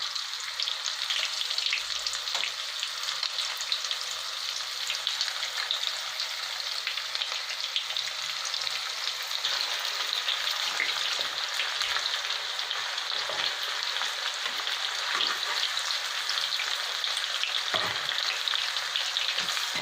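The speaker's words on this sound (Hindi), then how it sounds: "तेल गरम कर देची फ्राइंग पैन रे। मीडियम सिम रे छानिबा।" Chicken pieces frying in hot oil in a frying pan for chilli chicken, a steady close crackling sizzle with occasional sharper pops throughout, no voices.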